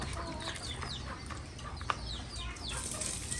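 Chickens cluck around a rural village house, a few short scattered calls over steady outdoor ambience with a brief sharp sound in the middle.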